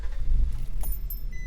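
A bunch of keys jangles as a key goes into a Nissan ignition, making a short, close metallic rattle over a low engine or cabin hum.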